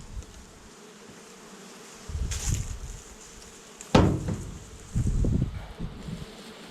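Honeybees drone steadily at an opened hive during a spring honey harvest, with a few louder bursts as bees fly close and clunks of hive frames being handled.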